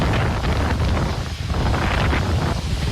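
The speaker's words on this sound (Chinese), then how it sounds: "因为风大的几乎快把人都给吹走" Strong Typhoon Kong-rey wind roars along the coast of Green Island and Orchid Island, with high waves. It sounds like loud, continuous buffeting gusts battering the microphone, with surf-like noise underneath, and no voices.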